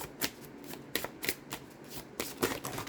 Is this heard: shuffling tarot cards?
yes